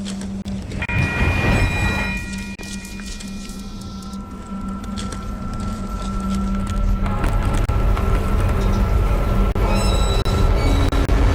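Train on railroad tracks in a rail safety announcement: a loud, close rumble of rolling cars with sustained squealing wheel tones and a horn-like steady pitch, building as it passes.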